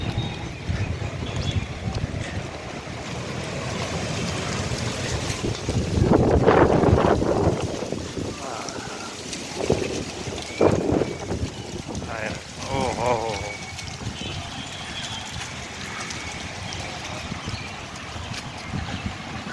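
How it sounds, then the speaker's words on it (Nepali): Strong wind gusts roar at a hilltop temple area above Nagarkot, Bhaktapur, battering the microphone in rough, uneven bursts that swell loudest midway, with a voice talking faintly at times. "आज हावा भयङ्कर चलिरहेछ।"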